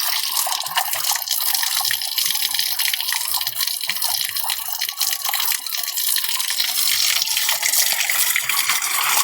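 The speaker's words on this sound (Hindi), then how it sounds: "ये वहाँ से पानी निकल रहा है और लकड़ी के सहारे यहाँ तक पानी आ रहा है" Spring water pours along a wooden channel at the foot of a mountain, a close, constant splashing trickle with faint low gurgles and no talking.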